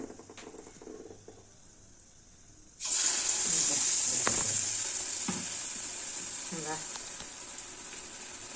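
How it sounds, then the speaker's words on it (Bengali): Gokul pitha dumplings filled with khoya kheer deep frying in hot oil, a quiet stretch giving way to a loud, steady bubbling sizzle with occasional soft clinks and stirring scrapes throughout. "এইভাবে আমি প্রত্যেকটা ভেজে নেব"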